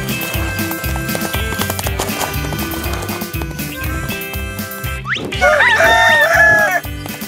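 A speckled rooster on a cartoon farm crows loudly over the last two seconds, its rising, wavering call standing out after a stretch of bouncy music with clip-clop beats.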